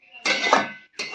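A spoon scrapes and clinks against a cooking pot while chalta fruit pickle is stirred, two short metallic scraping strokes close by with no talk.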